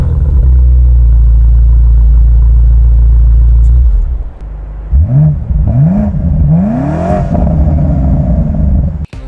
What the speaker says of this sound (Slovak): Športový výfukový systém nového modelu BMW M5 počiarkuje zážitok z výkonu s mnohostranným a emocionálne strhujúcim zvukom motora.